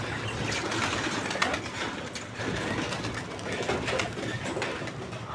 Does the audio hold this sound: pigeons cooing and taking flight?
yes